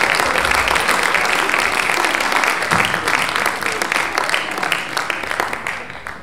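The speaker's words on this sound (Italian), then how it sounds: "Un applauso di incoraggiamento per voi." Audience applause fills a cabaret show, a dense, loud, steady wash of many hands clapping that carries on throughout and tapers slightly toward the end.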